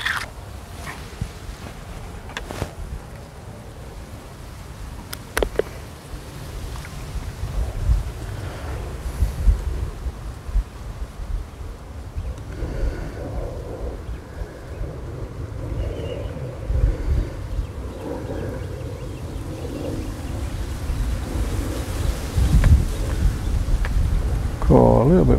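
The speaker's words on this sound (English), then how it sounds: "Oh, a little bit windy today." Wind at a fishing lake, buffeting and rumbling heavily against the microphone in continuous gusts, with a few sharp knocks and some speech mixed in.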